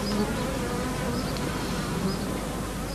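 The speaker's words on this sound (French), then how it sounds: "Henri Cibrario attire les abeilles dans un bac humide" Bees drawn to a wet tub hum and buzz steadily and close by, a dense continuous drone with no voices.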